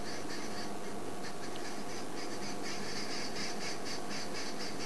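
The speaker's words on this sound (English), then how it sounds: "That's from arrow-marked babblers." Arrow-marked babblers give harsh, cackling calls while mobbing a Verreaux's eagle owl, a busy chorus of rasping squawks in repeated bursts over dense, steady background noise, moderately distant and fairly quiet.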